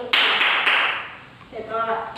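Two sharp hand claps ring out in a children's counting game led by a teacher, a brief pair of loud smacks followed by a softer tail as a voice begins speaking.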